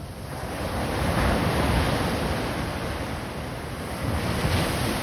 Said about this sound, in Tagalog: Willie, ba't tagilid para kita mo yung alon?